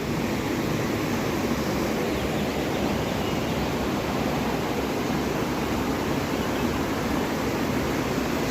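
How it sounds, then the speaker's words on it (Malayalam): Stream water rushes past a bathing spot at a family resort in Anakkampoyil, Kozhikode, during rainy weather, making a constant broadband roar that is close, even and unbroken throughout. "ശരിക്കും ഈ സൈഡിൽ നിന്നാണ് കേട്ടോ വെള്ളം വരുന്നത്."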